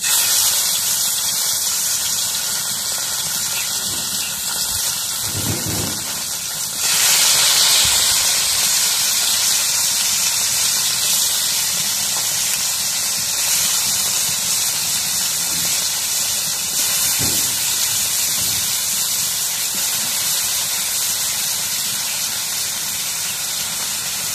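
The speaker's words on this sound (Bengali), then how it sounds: "এখন তাওয়াটা গরম হয়ে গেছে, এখন মাছগুলো দিয়ে দিই।" Fish fry in hot oil in a pan with a loud, continuous hissing sizzle that stays close and steady throughout, marked by a few low knocks and a brief swell in intensity early on, with no talk.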